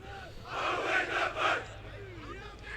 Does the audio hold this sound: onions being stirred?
no